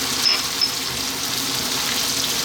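Soft, even sizzle of chili frying in a pan over high heat for a chicken curry, a continuous hiss with a couple of tiny pops, no voices.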